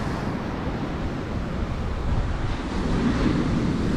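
Strong wind sweeps a beach at Caniçal on Madeira, with a steady, loud roar of gusts and surf that rises slightly toward the end, with no voices.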